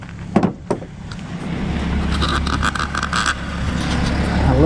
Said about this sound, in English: All right, I got the truck cranked.